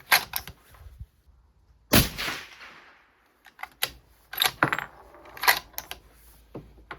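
A 300 Norma Magnum rifle fires a single sharp shot with a short fading tail outdoors. Scattered metallic clicks and handling knocks come before and after.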